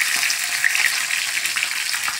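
Fresh curry leaves sizzling in hot tempering oil, a close, steady crackling hiss that stays even throughout with no voices.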